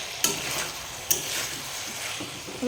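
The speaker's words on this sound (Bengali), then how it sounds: "আলুগুলো দিয়ে দেবো এখন এবার ভালো করে কষে নেব" Potatoes stir-fried with spices in a pan for a light shol fish curry with drumsticks, a steady close sizzle broken by two sharp scraping strokes of the spoon.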